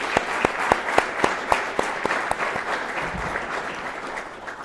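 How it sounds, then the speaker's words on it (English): Graduation audience at an enforcement training center applauds award recipients, a crowd clapping steadily with a few sharp, prominent claps standing out at first before settling into a dense, even patter. "Please join me in giving the award recipients a round of applause."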